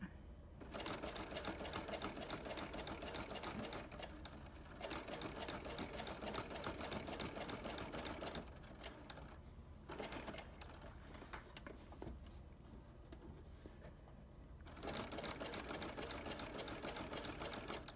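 A sewing machine runs in long steady bursts of stitching through fabric, with short pauses between runs as the material is smoothed and repositioned.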